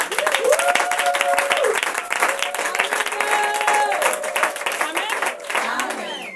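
A church congregation applauds in a steady, dense burst of clapping that lasts throughout, with voices and sustained tonal singing or cheering rising above it.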